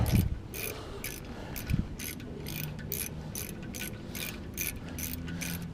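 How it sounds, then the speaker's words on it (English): A ratchet clicks in a fast, regular series of crisp pawl ticks while 10 mm bolts are tightened during rear rotor work on a 2007 Ram 1500, heard close up with a few faint metallic knocks. "All right, 10 millimeter again. Let's go ahead and tighten them down."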